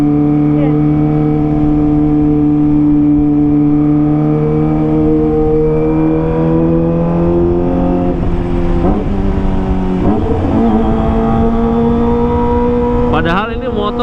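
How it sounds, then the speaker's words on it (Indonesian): A Kawasaki ZX25R motorcycle engine idles and holds low RPM loudly with a steady, tonal drone close by, then rises slightly in pitch toward the end with a brief rev. "Padahal ini motor RPM-nya RPM bawah tapi lumayan kencang juga suaranya ya."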